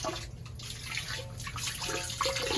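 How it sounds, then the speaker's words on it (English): Water runs and splashes steadily from a drain hose on a Rheem hot water tank being flushed, a soft continuous trickle with faint drips, fairly quiet and close. "As I open the drain valve, I can hear the water coming out from the hose."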